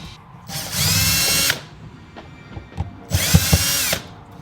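A power drill whirs loudly in two bursts, each about a second long, with clicks and handling noise in the pause between them.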